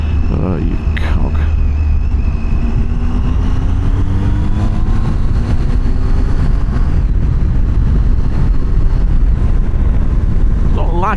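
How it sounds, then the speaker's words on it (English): A Triumph Tiger 800 XR with a triple engine roars steadily at close range while riding, the engine note rising and falling under wind rush and occasional rider speech. "It's not lacking for torque down low, it's a triple engine."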